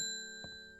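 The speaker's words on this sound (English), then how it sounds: "I'm going to ring the bell now." A shop bell in the video game Strange Horticulture rings with a clear, sustained ding that fades slowly, followed by a faint soft knock, heard alone.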